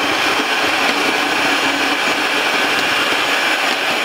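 An electric mixer whips icing for a no-bake birch-log treat while powdered sugar is added in small spoonfuls, giving a steady, loud, continuous whirring drone with no talk.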